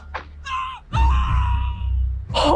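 A scream in a tense science-fiction television scene from Babylon 5: a few short strained vocal bursts followed by a loud, sustained howl-like cry, close and prominent, with another sharp burst at the end.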